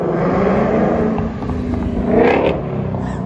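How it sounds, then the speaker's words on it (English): A 2024 Mustang GT with resonator delete in sport mode roars loud and close, its exhaust holding a steady rasp before easing off and swelling again in a brief rev near the end. "Even in sport mode, it is plenty loud with the Resonator delete."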